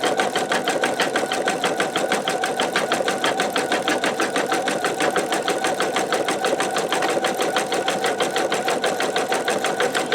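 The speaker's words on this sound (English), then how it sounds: "I'm going to go ahead and let it stitch for a couple minutes so you can see it" An embroidery machine works a heavy satin stitch on fabric held in a magnetic MagnaHoop, a close, steady, rapid rhythmic chatter that holds evenly the whole time without pause.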